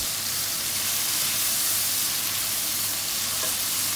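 Shrimp paste (bagoong) sautéing in a pan for a squash and string bean coconut stew, giving a steady, close, loud sizzle and hiss throughout with no talking.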